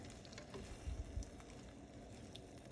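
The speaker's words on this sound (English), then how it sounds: "now just stir until everything gets firm" Eight eggs being stirred in a frying pan, a soft, steady sizzle with faint scraping and a couple of low thumps near the start, close and fairly quiet.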